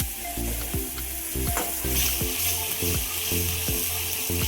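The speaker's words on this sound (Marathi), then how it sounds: "त्यात मसाला घेऊ टाकून आता वाटलेला मसाला." Ground masala frying in hot oil, sizzling loudly and steadily while a spoon scrapes the pan in regular repeated strokes, with no voices.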